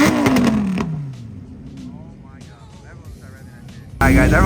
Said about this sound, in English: This is the time when everyone starts revving it before they leave.